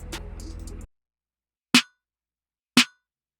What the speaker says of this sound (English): So we got this first snare,